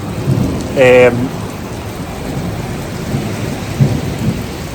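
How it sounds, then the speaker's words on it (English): Steady rain hiss with low rumbling and a distant thunder roll building underneath in Perth, Western Australia; a brief tonal whine rises near the start. "I'm just waiting for this rain to stop"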